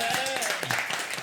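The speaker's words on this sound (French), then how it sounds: "qui s'appelle Yves et que l'on peut applaudir." Audience applause on a French comedy game show as a contestant is welcomed, a bright crowd clapping under a host's voice and background music, fairly loud throughout.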